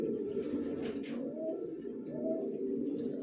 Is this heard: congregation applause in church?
no